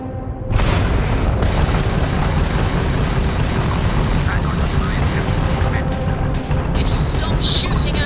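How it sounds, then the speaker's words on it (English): Spaceship weapons firing in a Starfield space battle, a dense, continuous barrage of booming, crackling gunfire that starts abruptly and stays loud throughout, with speech faintly mixed in. "The ship's weapons are powering up."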